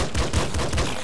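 Quick bursts of pistol shots in the video game Nuclear Throne, three or four punchy reports in close succession over a dense backdrop of game sound.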